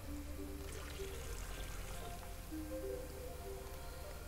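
Water from a bucket poured out over an umbrella in a point-and-click adventure game set in a theater, a steady splashing pour that runs throughout over soft game music.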